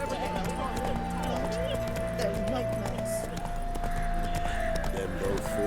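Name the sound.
horse Roach running in The Witcher 3 video game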